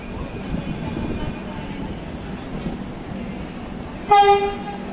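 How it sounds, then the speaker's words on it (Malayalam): A Vande Bharat train arriving at Vadakkav station in Kerala, steady rumbling rail noise building, then a loud, sharp horn blast near the end. "വന്ദേ ഭാരത് വരുന്നു വടക്കാവ് സ്റ്റേഷനിൽ വെച്ച്."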